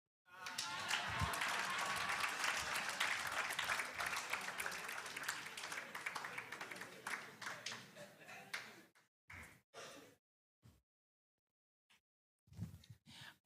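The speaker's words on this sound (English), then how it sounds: "you still clap for me." Audience clapping at a live leadership and anti-corruption citizen event, loud and sustained for about nine seconds, then fading into a few scattered short bursts of claps separated by silence.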